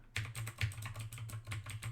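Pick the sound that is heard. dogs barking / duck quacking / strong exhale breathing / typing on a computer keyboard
typing on a computer keyboard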